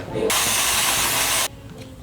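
Aerosol chain cleaner sprays onto the drive chain of a Ninja 650 motorcycle, a loud, steady close-up hiss lasting just over a second, then cutting off abruptly.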